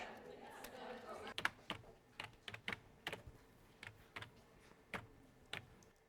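Someone types a search on a computer keyboard in a film scene, with irregular clusters of sharp keystrokes and short pauses, fairly close and clear against a quiet background.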